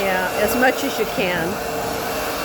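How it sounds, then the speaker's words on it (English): A vacuum cleaner runs steadily while cleaning carpeted stairs, its constant motor whine going on throughout, with a person speaking briefly over it. "Sometimes you have to vacuum it a couple of times to get all the dust out."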